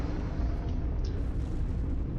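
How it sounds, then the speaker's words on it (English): A commander blows up in the strategy game Planetary Annihilation with a dense, rumbling explosion that sustains a heavy, even roar throughout, loud and close. "there's the explosion."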